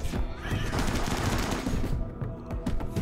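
Continuous rapid gunfire during a Rimworld firefight, dense overlapping bursts of shots sustained loudly throughout with no speech.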